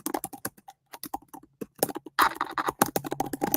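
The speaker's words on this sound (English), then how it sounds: "I am typing with purpose." Fingers type on a computer keyboard in quick, irregular bursts of close, crisp clicks with brief pauses, and no talk over them.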